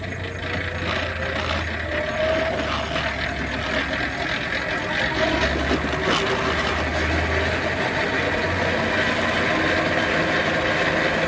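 A modified 26-inch EuroBike G4 e-bike at full throttle builds toward top speed, its faint motor whine slowly rising beneath a constant heavy rush of wind.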